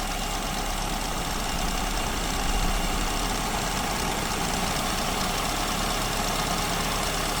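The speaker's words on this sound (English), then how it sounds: "I'm actually going to over-enrich the idle mixture and then lean it off" Engine idling on an SU carburetor with an over-enriched idle mixture, a steady, loud, continuous rumble at close range with no talk.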